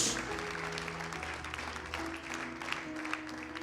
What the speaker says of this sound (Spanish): Le damos un aplauso a Jesús.